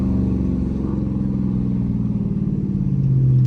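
A Dodge Charger R/T engine accelerating through a U-turn on a late-night drive, heard as a loud, steady, low engine drone that climbs slightly in pitch toward the end, with no talking.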